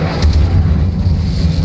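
Incendio fire spell cast in the Hogwarts Legacy video game: a loud, dense burst of roaring, booming fire that holds steady for under two seconds.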